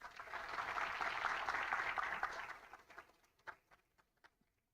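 Audience applause at a mechanical engineering master's opening ceremony, a moderate wash of clapping from a seated crowd that holds for a few seconds, then thins to scattered single claps and fades out.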